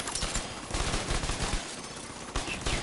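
Sustained automatic gunfire in The Division 2, a rapid, near, continuous stream of shots that pauses briefly before a final burst.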